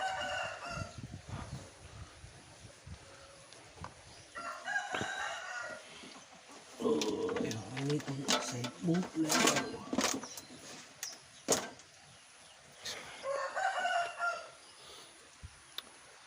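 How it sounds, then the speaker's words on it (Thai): Several fighting roosters crow in turns across the stretch in a backyard, some near and loud, others fainter, with occasional clucking between calls. "พ่อเขาเลี้ยงไก่ชนไว้ หลายตัว"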